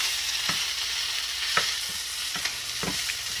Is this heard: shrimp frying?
yes